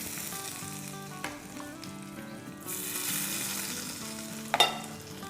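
Hot oil poured over kadhi topped with Kashmiri chili powder, a soft sizzle rising midway over quiet kitchen background, with a sharp clink of a utensil near the end, no speech.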